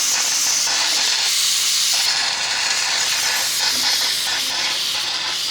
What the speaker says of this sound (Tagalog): Unti-unti na pong nawawala yung kanyang singaw, yung kanyang init sa loob, kanyang hangin.